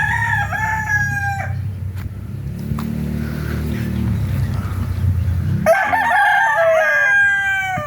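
Roosters crow loudly and up close at a Filipino gamefowl farm, with one long crow at the start and another near the end, while a vehicle engine rumbles and passes in between and hens cluck faintly.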